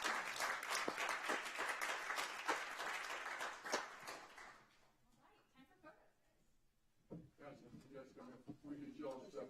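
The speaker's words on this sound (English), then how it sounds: "Can we get another round of applause for our graduates?" At a city council meeting, the audience gives graduates a dense round of applause for about four seconds. It fades into quieter murmuring and nearby talking.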